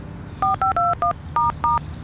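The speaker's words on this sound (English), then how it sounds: "turned to his phone and dialed the number" Touch-tone phone number dialed on a mobile phone: seven crisp DTMF beeps in quick, slightly uneven succession, each a short dual-pitched tone, clear and close with no talking.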